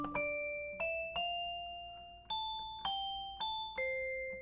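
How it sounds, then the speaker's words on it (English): Bell tones from the lead track of an OP-Z synthesizer play a slow melody of about eight struck notes, each ringing and decaying before the next, clear and alone. "I want bells. I definitely want bells."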